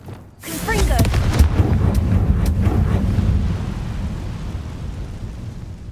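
Confringo explosion spell in Hogwarts Legacy: a sudden loud blast that swells into a long, rumbling, crackling roar, heavy and close, slowly settling over several seconds.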